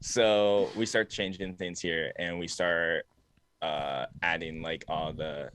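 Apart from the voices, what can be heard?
No distinct noise like a dog, phone or traffic.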